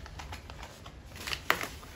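Close-up riffling of tarot cards being shuffled, a series of quick papery flutters ending in a sharper snap.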